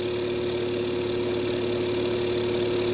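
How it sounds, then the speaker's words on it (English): An electric motor and pump on an air compressor run steadily in an unloaded state, giving a constant mechanical hum with a low tonal drone throughout and no voices. "Now, pump is actually restarted in an unloaded situation."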